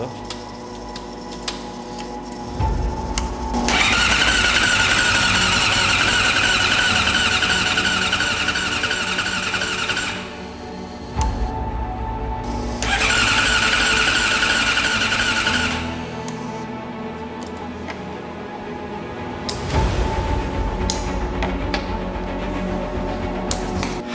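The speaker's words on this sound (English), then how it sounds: "Okay, so starter's going. The fuel pump, I can hear it." Starter on a Suzuki GSX-R750 motorcycle cranks in two long bursts with a steady whine and ticking, fuel pump running, close and loud, with quieter gaps and mechanical noise between.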